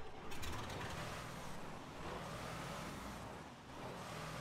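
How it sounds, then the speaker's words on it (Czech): Car engines in the Arma video game, a Top Gear style Australian special, give a steady broadband roar of motor and road noise that swells and eases slightly, with no talk over it. "Má to hodně hezký zvuky, ty auta."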